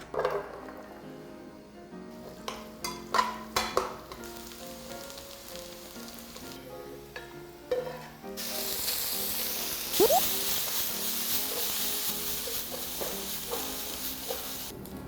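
Garlic sizzles in hot olive oil in a pan, opening with sharp clinks and taps of utensils and cookware before a loud, steady crackling fry takes over, close and continuous with no talking.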